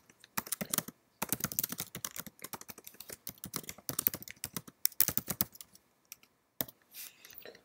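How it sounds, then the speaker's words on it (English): Someone types a C++ program on a computer keyboard, a close, fast patter of key clicks in bursts separated by short pauses, with no talking. "once you've typed your program"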